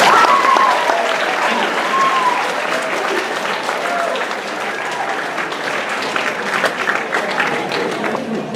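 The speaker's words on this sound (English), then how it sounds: "I think it's time to give yourselves another round of applause." A large audience at a science general session breaks into sustained applause, a loud, even wash of clapping that holds steady throughout with a murmur of voices mixed in.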